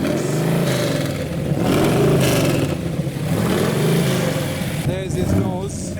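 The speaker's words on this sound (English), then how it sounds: "So take a listen to that 800 horsepower Jensen V8 as he provides the" An 800-horsepower Jensen Interceptor V8 revs loudly and close in a car park at a car show, its engine note rising and falling in repeated swells with crowd noise around it.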